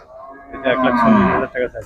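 Cattle moo at the Teowarihat cattle market in Lohagara: one loud, drawn-out bovine call swells and holds for nearly a second, followed by a shorter grunt, close by against faint market background.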